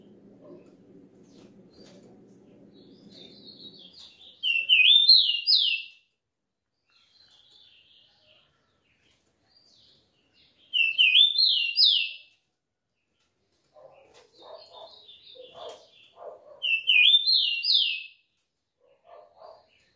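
A rufous-collared sparrow (tico-tico) sings three loud, clear, rising whistled phrases at regular intervals, with faint chirps between them and a soft low rustle at the start.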